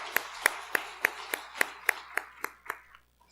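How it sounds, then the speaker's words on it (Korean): A small group claps in a church worship service, about ten evenly spaced sharp claps in a steady rhythm, fading out at the end. "하나님께 영광의 박수를 보내겠습니다"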